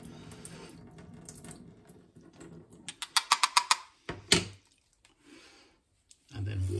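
Liquid is poured off freshly churned homemade butter in a kitchen, giving a short run of splashy, clicking bursts in the middle, with a voice talking before and after.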